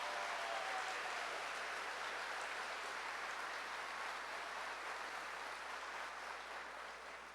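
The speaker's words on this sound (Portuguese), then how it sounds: "Pode aplaudir, pode aplaudir." A church congregation applauds during a worship service, a steady, dense wash of clapping that sounds slightly distant and continues evenly before tapering near the end.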